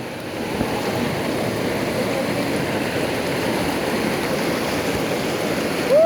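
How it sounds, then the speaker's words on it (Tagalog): Loud, continuous rushing water of a strong river current at Mother Falls in Baler, Aurora, roars steadily without a break, close by. "Lakas ng alon."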